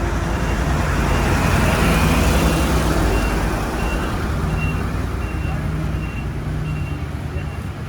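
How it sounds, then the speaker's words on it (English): A truck rumbles past on a road heading down to the mill in Pajo, a loud, steady engine and tyre roar with faint intermittent beeping that eases slightly as it moves away. "I've got a truck coming past me now going down to the mill."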